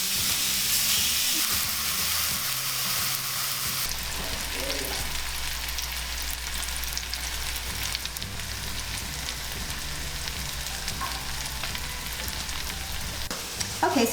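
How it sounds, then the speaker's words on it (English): Burgers frying in a pan indoors, a steady broadband sizzle that holds throughout at moderate loudness, with a low hum shifting partway and a few faint clinks near the end. "while the burgers are cooking"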